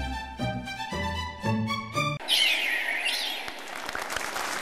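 A bird sings in a Vietnamese comedy sketch: a run of repeated bright, pitched notes, then a sweeping chirp over a rustling, crowd-like wash, fairly close and moderately loud.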